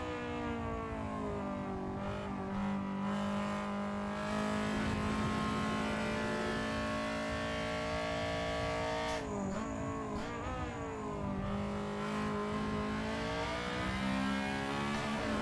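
A Honda Civic race car in a racing video game screams at full throttle around Brands Hatch Indy, a loud continuous high-revving engine note with brief dips and climbs at gear changes.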